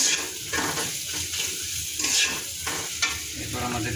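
Spice powder being stirred in a hot frying pan, a steady scraping sizzle with soft periodic stirring strokes, close and continuous with no talk.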